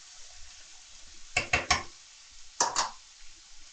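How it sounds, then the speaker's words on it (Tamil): Cauliflower fry with fresh coriander stirred in a pan, giving three quick scraping stir strokes and then two more a moment later, each a short burst of clatter and sizzle over a quiet background. "இப்போ வந்து இந்த கொத்தமல்லியை வந்து போட்டுட்டு"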